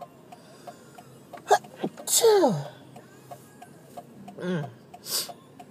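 A sharp sneeze bursts out, then a second sneeze-like burst follows a few seconds later, both close and loud in a quiet room.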